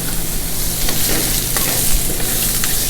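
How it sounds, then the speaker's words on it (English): Ribeye steak sears in a hot pan for cheesesteak, giving a steady close-up sizzle and crackle with a few stirring scrapes throughout. "We're going to hit the ribeye in the pan."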